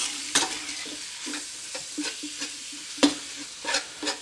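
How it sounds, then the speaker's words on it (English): Ground beef stir-frying in a new wok, broken up with a whisk: steady sizzle punctuated by a dozen sharp scraping, clattering strokes in an irregular rhythm, close and fairly loud with no talk. "So we're gonna stir fry our ground beef"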